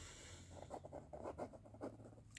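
A Pilot Frixion Ball 0.38 pen scratches across paper in a series of short, quick strokes, faint and close, with brief pauses between the bursts of writing.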